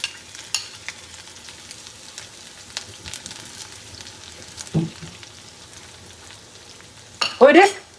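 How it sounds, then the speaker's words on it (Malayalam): Ginger fries in a pan for a Kerala-style cauliflower thoran, then garlic and green chilli are added. A soft, steady sizzle runs throughout, broken by a few clinks and a louder burst of spitting as the ingredients hit the oil. "ഇഞ്ചി ഒന്ന് മൂത്ത് വരുമ്പോ നമുക്ക് വെളുത്തുള്ളിയും പച്ചമുളകും കൂടെ ഇടും"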